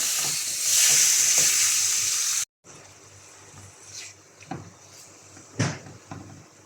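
Chicken fries in a pan over a medium flame with a loud, dense sizzle. It cuts off abruptly, and a quieter crackle follows, broken by a few knocks and clanks of a utensil or lid.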